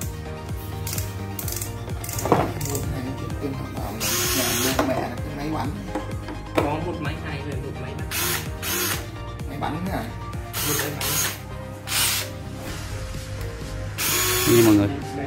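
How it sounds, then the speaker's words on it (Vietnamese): Dekton DK-2115T mini cordless concrete drill (21V driver) being tried out on a work site, whirring in repeated short bursts with ratcheting clicks, close and loud over steady background noise and voices. "đây là máy khoan pin bê tông, khách hàng đang kiểm tra này"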